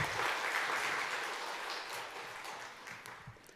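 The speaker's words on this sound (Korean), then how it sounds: "우리 오늘 특송을 같이 함께한 카이로스 상문사공을 향해 다시 한번 뜨겁게 박수 한번 부탁드리겠습니다." Church congregation applauding together during a worship service, a dense, steady clatter of many hands that fades slightly toward the end, with no talk over it.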